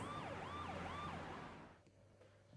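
Ambulance siren wailing loudly as the vehicle speeds down a street, rising and falling sweeps for almost two seconds before cutting off, leaving quieter traffic rumble behind.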